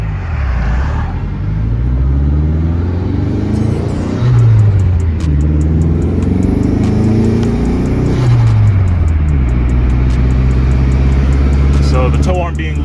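Dodge SRT-4 engine hums steadily from inside the cabin, rising and falling through gear changes as the car drives along with a loose tow arm, loud and close.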